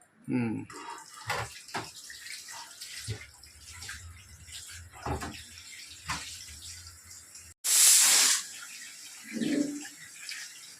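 Raw chicken leg pieces are rinsed under running water, with splashing and handling noises, a brief loud gush of tap water near the middle, and a person talking in between.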